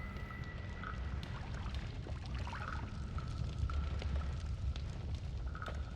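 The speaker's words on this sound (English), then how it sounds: "Also, that water barrel emptied," A water barrel empties in the pixel-physics game Noita, a steady rushing pour with low rumbling texture underneath and small crackling bits over it, continuous throughout.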